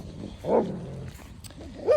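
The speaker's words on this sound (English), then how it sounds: "sorry about the dogs. They're just crazy." Dogs barking at home near a garden, a couple of loud close barks and yips with quieter whining between them.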